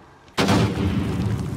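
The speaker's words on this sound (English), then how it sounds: "Another bomb." A bomb blast in the video game Noita: after a brief quiet moment, one sudden loud boom hits and rolls into a rumbling, crackling tail that fills the rest of the clip.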